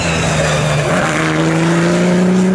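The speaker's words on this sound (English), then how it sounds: "The GT2 car is now going down the pit lane on its limit to the number 18." An Aston Martin V8 Vantage GT2 race car in pit lane at Snetterton, its engine droning steadily with a rising pitch, close and loud with no voices.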